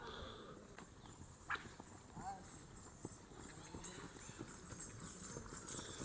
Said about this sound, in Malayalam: ഇതാ കുതിരകൾ റൈഡ് ഇറങ്ങിയിട്ടുണ്ട്